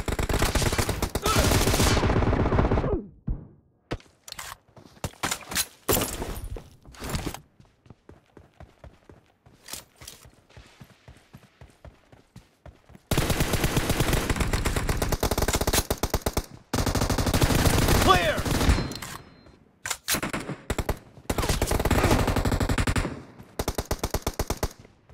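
Rapid automatic rifle fire from M4 and M7 guns in a PUBG team deathmatch: long loud bursts of machine-gun fire alternate with quiet gaps of scattered single shots and footsteps.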